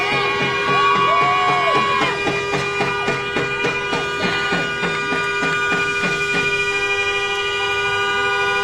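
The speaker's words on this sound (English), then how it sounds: "honking their horns, multiple cars." Car horns blare from vehicles driving past a community gathering outside the Minnesota BCA, with long, steady blasts overlapping for several seconds above a low crowd murmur.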